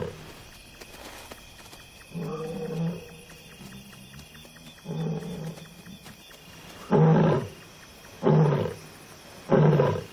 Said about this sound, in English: Distant roars echo through the cool night air.